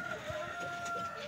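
Six hens and an old rooster in an enclosure cluck faintly, a soft scattered clucking heard at a distance over a low background hum.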